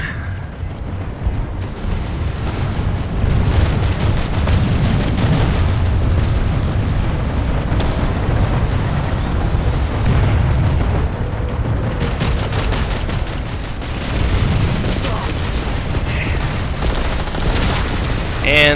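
Dense gunfire and explosions fill the Planetside 2 game battle, a continuous loud barrage of rapid shots and booms across the whole stretch, with a voice talking briefly.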